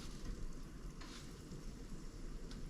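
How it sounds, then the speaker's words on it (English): Lampuki fish fries in a pan Mediterranean style, giving a quiet, steady sizzle with faint crackles and some background hiss. There is no talking. "Yeah, it's frying good."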